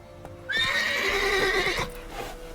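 Roach, Geralt's horse in The Witcher video game, lets out a loud, close whinny lasting over a second, with a few hoof clops before and after.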